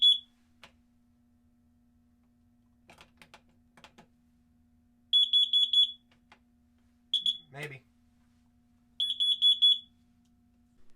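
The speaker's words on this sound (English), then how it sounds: "the next thing here is of course the smoke alarm" Three bursts of loud, high-pitched smoke alarm beeps, each a rapid cluster of chirps, separated by pauses with faint clicks and a brief word spoken between them.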